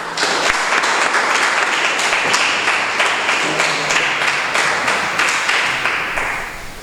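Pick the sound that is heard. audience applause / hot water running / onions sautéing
audience applause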